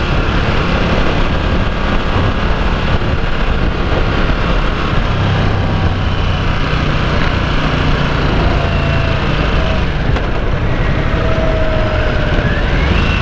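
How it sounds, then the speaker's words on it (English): A Harley-Davidson Nightster engine braking in sport mode, droning steadily while decelerating, a continuous mechanical hum with wind noise and a faint rising whine near the end. "Engine braking, not too bad."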